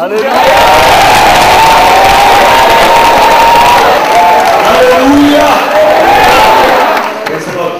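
A church congregation at a healing service claps and cheers loudly, a dense roaring crowd with whoops and shouts sustained for several seconds before tapering off, with voices mixed in.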